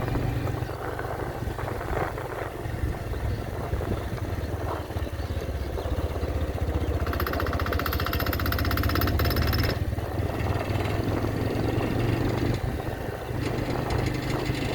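Motorcycle engine running steadily as a learner rider changes gears on a training ride, a continuous low drone with a louder, rougher revving stretch midway, no talking.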